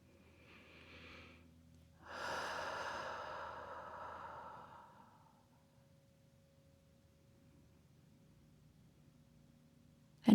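Slow breathing during a relaxation exercise: a soft inhale, then a long, audible exhale that fades, followed by quiet stillness, close to the microphone, with no talk.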